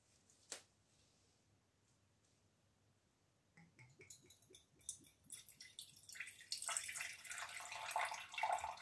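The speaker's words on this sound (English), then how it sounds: "We like the sound of the water trickling in." Rose water trickles into a container for a complexion cream, starting quiet after a single drip and building into a steady, splashing pour close by.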